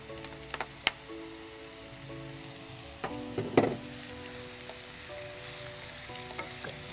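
Cabbage and yellow zucchini stir-frying in a hot pan, a soft steady sizzle broken by scattered clicks and scraping stirs, close and fairly quiet with no talking.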